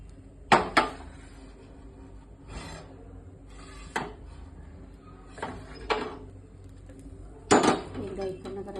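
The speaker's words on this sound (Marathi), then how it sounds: "तवा उलटा करून घ्यायचा." An iron tawa griddle is flipped and handled while cooking naan in a home kitchen, giving a handful of sharp metallic clanks and scrapes at irregular intervals over a quiet background.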